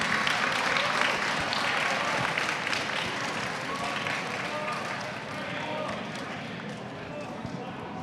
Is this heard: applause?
yes